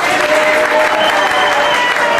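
Loud, sustained applause from an audience at an honoring ceremony, a thick continuous wash of many hands clapping close by, with a faint murmur of voices underneath.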